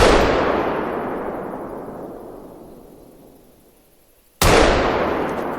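Rifle shots at oryx in the hunting game theHunter: Call of the Wild: a loud close gunshot with a long rolling echo fading over several seconds, then a second sharp shot.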